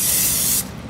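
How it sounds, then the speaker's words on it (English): Cooking spray hissing onto a cookie sheet in a home kitchen, one brief steady close spray that cuts off sharply, followed by quiet room noise. "I'm gonna spray a cookie sheet so they don't stick"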